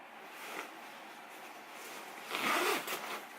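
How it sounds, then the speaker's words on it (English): A coat zipper is pulled up in a few quick rasping strokes, close and quiet, with a louder zip toward the end. "and zip up your coat."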